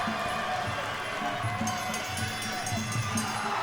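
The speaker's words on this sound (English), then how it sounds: "The crowd goes wild all around us here" Loud, dense crowd roar fills the arena at a TFP 7 fight championship bout as the champion's hand is raised, a steady wash of cheering with rhythmic stomping or pulsing beneath it, no clear voices standing out.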